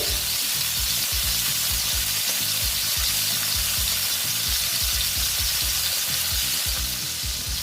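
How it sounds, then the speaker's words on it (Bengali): Pieces of katla fish fry in hot oil in a pan, giving a loud, continuous, dense sizzle with crackling spatters throughout, close up and with no voices. "দেখো মাছগুলো ভাজা হচ্ছে"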